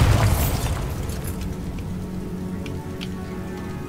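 A Bombarda blasting spell detonates in Hogwarts Legacy, opening with a heavy boom that decays into a long crackling, debris-like rumble, fading as a few faint ticks follow.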